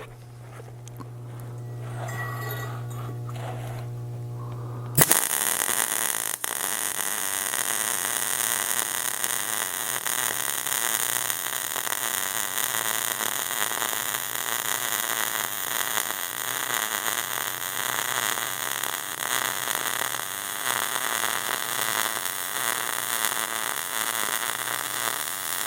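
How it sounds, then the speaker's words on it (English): A MIG welder lays a bead with a drag angle, starting abruptly after a quiet moment and holding a steady, loud crackling hiss that continues without break to the end. "And then we're just going to drag, trying to keep the weld pool a consistent size throughout."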